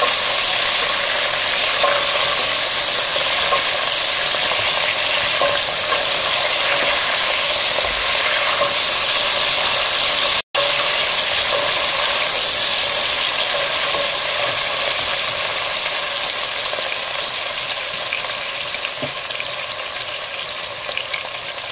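Onion frying in a pan over a lowered flame, a steady loud sizzle and hiss that continues evenly throughout with one brief cut, no voices.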